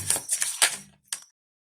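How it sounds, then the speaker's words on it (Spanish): Tarot cards being shuffled by hand, a few quick crisp riffling and snapping bursts close up, followed by a single short flick and then quiet. "vamos a barajar con el tarot del legado de lo divino las cartas"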